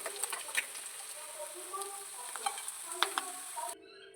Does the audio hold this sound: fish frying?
yes